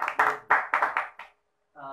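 A studio audience on a talk show gives a short round of clapping, about six loud bursts in quick succession that stop abruptly, followed by a moment of silence and then a voice.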